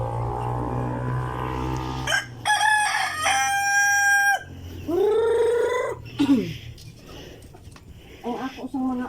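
Philippine native roosters in Cebu crow several times, their long harmonic calls standing out loud and close, with other fowl vocalizing and people talking at moments between the crows.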